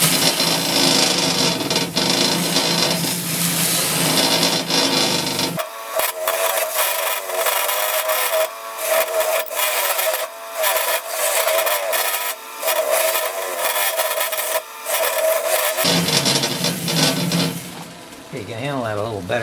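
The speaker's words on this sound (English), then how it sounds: "what I'd like to do is just sand off the edges on this thing, round them over a little bit so they're not so sharp" A handheld sand flea drum sander rounds over the sharp edges of a wooden board, giving a steady loud grinding whir with a few short pauses; a voice talks over it near the end.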